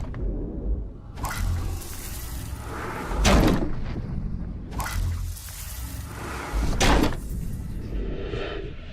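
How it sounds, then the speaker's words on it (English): Desk drawers in an office are yanked open and shoved shut during a search in the Beyond: Two Souls game, several separate sliding bumps and thuds spaced out over a quiet room tone. "let's see if it's in one of these drawers"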